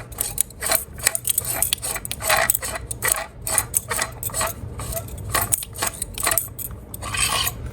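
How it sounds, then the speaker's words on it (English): Scratchy metallic grinding and rasping as the threaded handle of a custom Neopixel lightsaber with brass marble is unscrewed, coming in close irregular bursts with short gaps. "you can just unscrew the handle"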